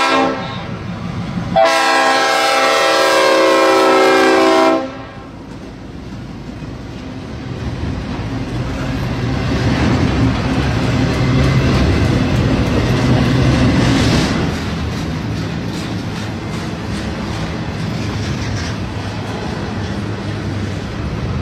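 A CSX freight train horn blasts for a few seconds, then a long intermodal freight train rumbles and clatters past steadily, loud and close.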